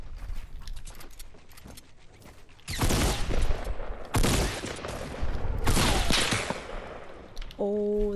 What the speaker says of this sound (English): Oh, that's a sniper shot.